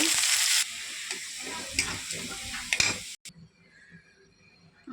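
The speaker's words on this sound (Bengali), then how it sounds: "পেঁয়াজ দিয়ে ভেজে নেব" Onions frying in oil with dried red chillies in a wok, a dense close sizzle with stirring that runs loud for about three seconds, then cuts to a quieter, softer hiss.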